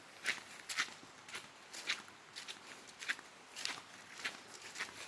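Footsteps crunch along a forest path toward a waterfall, a soft, irregular series of quiet steps at moderate distance with no talking.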